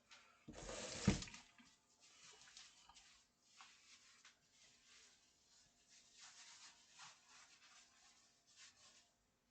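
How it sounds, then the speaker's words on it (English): Tap water running at a sink while kitchen counters are washed with soap, with a loud brief gush at the start, then quieter intermittent splashing and wiping sounds. "Now we're gonna go for the cleaning of the area with some soap and water."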